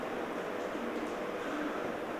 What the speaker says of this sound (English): We've just got on a train now from Ashford International Station to Dover.